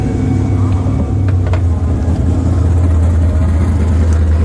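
Car engine with a very hot turbo runs steadily at close range, a loud continuous low rumble with no talk over it.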